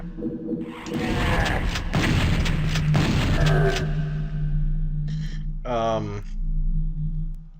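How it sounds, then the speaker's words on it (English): Rocket launcher blasts in the PS1 version of Doom: deep booming shots rumble through the first few seconds, followed by shorter mechanical game sounds, with a steady low hum underneath. "he takes 6 shots with the rocket launcher"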